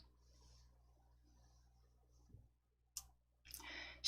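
A computer mouse clicks to select a font in a word processor: a quiet stretch, then two sharp, close clicks about half a second apart near the end.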